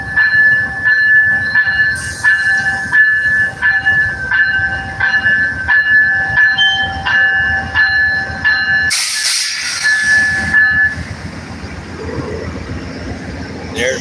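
An Amtrak passenger train pulls into the station at San Antonio, Texas, loud and close, with a steady rumble, a sustained wheel squeal and a sharp burst of air-brake hiss near the end before the noise eases.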